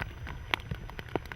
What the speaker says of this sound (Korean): 빗방울은 이내 굵어지고 거세진다.